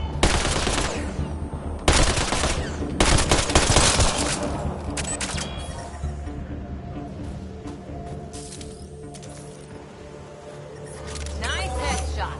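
Bursts of rapid gunfire crackle loudly in the Mass Effect Andromeda combat, a few sharp volleys early on, then fading into a quieter ambient hum.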